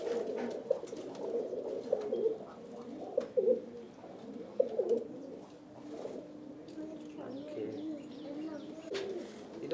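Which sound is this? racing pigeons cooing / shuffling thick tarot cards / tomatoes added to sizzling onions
racing pigeons cooing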